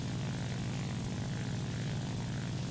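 N1KJ Shiden Kai propeller aircraft engine in War Thunder, a steady, droning buzz of the piston engine and airscrew held at constant power, dense and unbroken with no voices.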